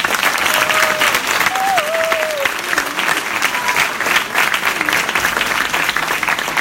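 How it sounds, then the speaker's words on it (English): Sustained audience applause at a Demo Day event fills the room, loud and steady throughout, with faint tonal squeaks briefly rising above the clapping. "Give everybody a round of applause."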